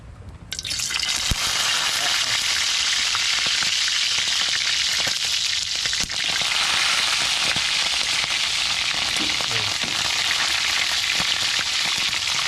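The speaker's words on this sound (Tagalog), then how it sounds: "Piprituhin ko po muna para mas masarap igisa." Fish sizzles loudly in hot oil in a pan, a steady crackling hiss with scattered pops that begins abruptly and stays close and constant throughout.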